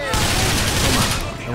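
Rapid gunfire erupts in the Bioshock Infinite video game, a dense loud burst of overlapping shots lasting over a second, with a voice briefly audible around it.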